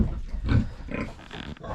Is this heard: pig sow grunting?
yes